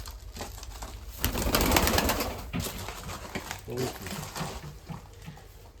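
A pigeon flaps in amid outdoor bustle, with soft cooing and other birds around, loud wing noise rising briefly then settling.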